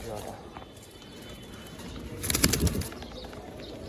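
Pigeons kept for sale coo and shuffle nearby, with a brief burst of wing flapping in the middle, while a person talks over them.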